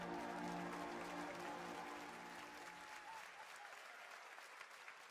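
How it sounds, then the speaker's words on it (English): An audience claps loudly at a game showcase event, a dense burst of applause that fades out over about five seconds. "I'm at the title card and I hear people clapping,"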